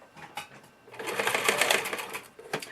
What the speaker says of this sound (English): and then you're going to sew straight up